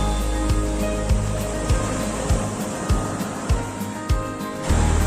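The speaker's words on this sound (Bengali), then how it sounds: "সকালের সানরাইজের সাথে সাথে আমরা এই উত্তাল ঢেউ খুব ভালো মতো উপভোগ করছি" Rough sea waves roll in at Gopalpur beach on the Odisha coast in the morning, a continuous roar of surf with a string of regular thuds and gusts of wind buffeting close by.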